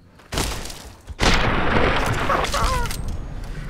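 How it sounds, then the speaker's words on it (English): A single loud gunshot in Fallout New Vegas at Jacobs Town, a sharp boom followed by a rolling echo, preceded by a shorter blast, with no one speaking. "I'm gonna shoot it."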